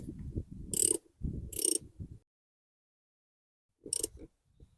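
Wrench work on a Jeep Wrangler battery terminal, with a few short metallic ratcheting bursts close by and quiet gaps between them, no talk.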